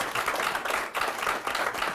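An audience applauds writer-director Richard Linklater at an interview event: a steady, dense wash of many hands clapping, fairly close, with a brief dip in the middle before it swells again.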